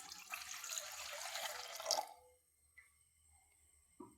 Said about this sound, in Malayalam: ഒരു കപ്പ് വെള്ളം ഒഴിച്ചു കൊടുക്കാം